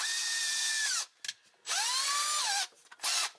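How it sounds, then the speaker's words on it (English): A power drill with a hole saw cuts holes for an Ice Crusher cab heater on a Honda Talon, whining in three sustained bursts with short pauses between them. "So now we'll drill these out"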